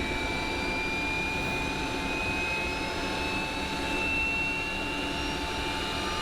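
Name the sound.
Boeing 727 number 2 jet engine starting up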